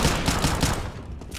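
Rapid automatic gunfire in a shooter video game, a loud, dense burst of repeated shots in quick succession at close range, filling the moment without talk.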